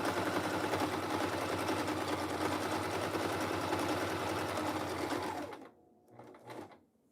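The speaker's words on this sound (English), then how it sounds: "trying to do a semi-cool stitch also, instead of just like a straight one." Sewing machine stitching: a fast, steady, close mechanical whir of the needle running for about five seconds, then stopping abruptly, followed by a brief softer mechanical sound.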